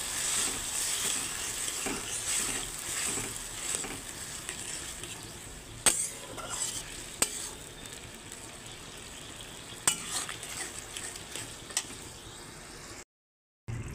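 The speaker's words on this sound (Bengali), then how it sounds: "আবারও 5 মিনিট নাড়াচাড়া করে নিয়ে এখন আমি জল দিয়ে দিচ্ছি সামান্য।" Okra cooking in a pan with a little water gives a soft, constant sizzle broken by occasional sharp clicks and scrapes of a stirring utensil, ending in a brief silence.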